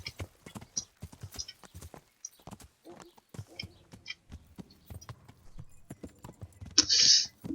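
Horse hooves clip-clop in Kingdom Come: Deliverance with an irregular, close, fairly quiet rhythm of sharp knocks, broken by a brief bright chime near the end.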